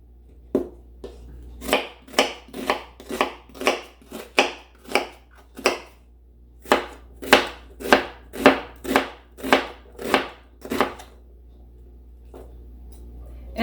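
An onion for borscht is chopped on a board with a knife in a fast, even run of about twenty crisp, close thuds, then it stops, with no voices.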